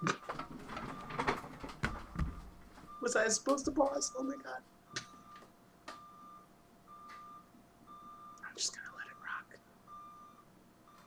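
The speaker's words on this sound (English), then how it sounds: "Apparently there's an alarm clock going off next to me." An alarm clock nearby beeps in short, evenly spaced pulses, fairly faint and steady, while a person talks quietly over it in a small room.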